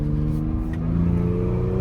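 A Ford EcoBoost engine revs on a downshift, a steady, loud, low mechanical drone with rising tonal harmonics, heard close from inside the car without interruption.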